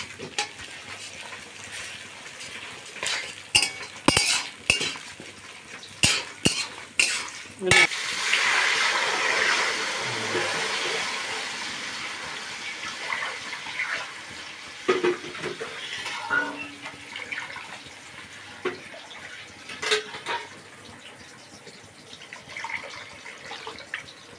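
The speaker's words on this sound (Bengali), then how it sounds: "আর তেজপাতা দিয়ে দিয়ে নাড়ানো হচ্ছে।" Masoor lentils cooking with bay leaves, dried chillies and panch phoron are stirred in a pot for a Janmashtami offering, with repeated clanks and scrapes of a spoon over a wet simmer while people talk.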